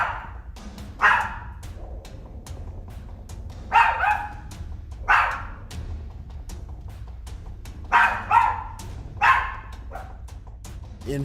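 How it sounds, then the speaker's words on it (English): A dog barks in short bursts at a sofa indoors, several sharp barks spaced a few seconds apart over a low steady room hum, fairly close and loud. "the dog moves to the front of the sofa, it seems to be barking at someone who's sitting on the sofa"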